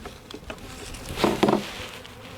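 Honey bees buzz around an opened hive during an inspection, a close, fluttering drone with a few louder passes as individual bees fly near, rising briefly in the middle.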